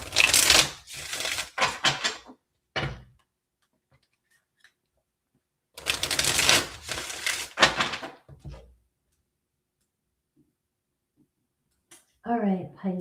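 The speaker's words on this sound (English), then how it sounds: "I'm doing a pre-shuffle before I start shuffling for Pisces." Tarot cards being shuffled in two bursts of rapid riffling and slapping, separated by a quiet pause, close to the listener; a person briefly speaks at the end.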